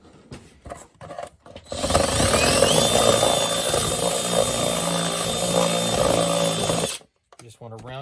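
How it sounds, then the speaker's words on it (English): A step bit drills a hole for an AT-AT driver chest box build: a loud, steady power-tool whine and grinding runs for about five seconds, starting and stopping abruptly, with brief voices before and after. "worst case scenario, we'll use a stepper bit"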